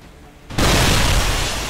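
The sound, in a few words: fireworks explosion sound effect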